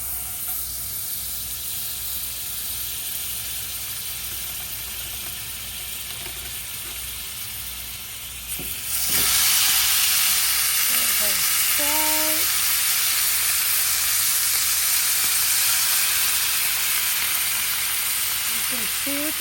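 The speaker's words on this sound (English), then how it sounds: "we are gonna go fry her up in the pan" A ribeye steak sizzles loudly as it hits a hot pan, a sudden jump from quiet room noise to a steady, bright hiss that stays strong, with brief clinks of utensils near the end.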